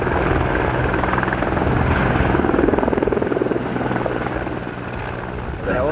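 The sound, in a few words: firefighting helicopters over the Palisades Fire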